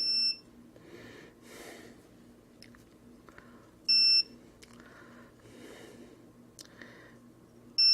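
A ViFly Finder drone buzzer gives short, sharp high-pitched warning beeps before arming, two isolated chirps a few seconds apart over quiet background rustling.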